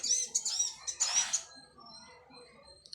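Small birds perched on a wire give a quick series of high, thin chirps up close, then fall quieter with a few faint calls.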